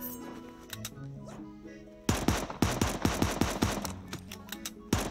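Gunfire in a video-game fight between a shotgun and a grey pistol, a rapid run of sharp, loud shots in quick succession after a quieter stretch of game sounds.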